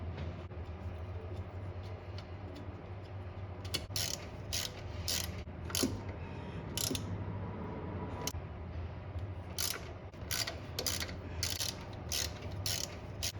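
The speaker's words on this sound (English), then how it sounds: "screwing down in there, getting a little bit tighter" Screws are tightened on the throttle body of a 1988–97 Nissan D21, giving a steady mechanical ratcheting hum with clusters of sharp clicks that come and go at close range.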